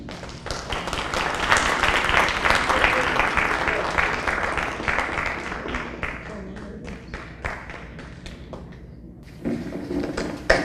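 An audience at an MLK oratorical contest applauds a young speaker, loud dense clapping that thins out into scattered individual claps near the end, then swells briefly again.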